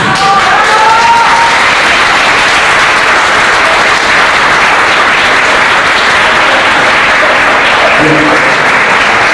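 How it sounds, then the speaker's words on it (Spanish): Loud, sustained audience applause from a large crowd, dense and continuous throughout, with a voice briefly audible at the start. "Yo le pido a todo el público un aplauso"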